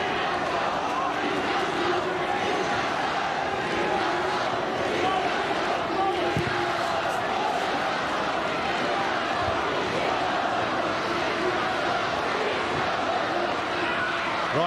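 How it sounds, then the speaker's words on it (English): A football stadium crowd roars for Newcastle Jets in a 2009 AFC Champions League match against Beijing Guoan, a dense, steady wall of distant cheering and shouting that never lets up. "The crowd is going to try and roar the Jets over the line."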